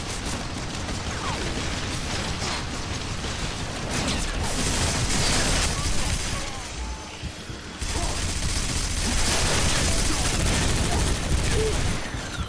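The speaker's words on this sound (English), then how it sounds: "And now everybody is shooting at me" Heavy, sustained gunfire from enemies in the Bodycount video game, a dense, chaotic stream of overlapping shots and bursts with booming impacts, loud and continuous with brief dips.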